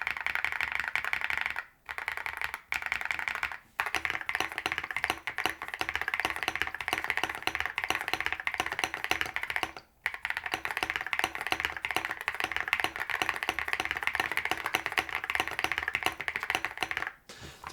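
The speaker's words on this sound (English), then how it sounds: "this keyboard does make it so it's like really thocky" Continuous typing on a Yunzii C98 mechanical keyboard, deep and thocky, with dense rapid keystrokes and a few brief pauses, close and clear with no talk.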